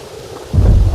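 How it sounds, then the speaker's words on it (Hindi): A short burst of low thunder rumbles in suddenly over a soft background hiss of steady rain. "थोड़ी ही देर में मूसलधार बारिश शुरू हो गई।"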